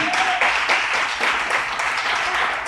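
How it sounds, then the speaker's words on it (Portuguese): A church congregation applauds during a Portuguese-language service, steady dense clapping from many people, fairly loud and continuous with a voice faintly audible at the start. "Quem crê, aplaude o Senhor Jesus."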